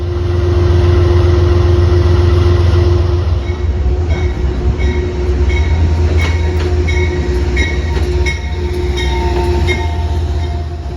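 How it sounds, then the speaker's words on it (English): A passenger excursion train sits at the station, its loud steady engine hum and low rumble continuous, with faint metallic clanks and brief squeals from the cars rising over it. "The train is back at the station"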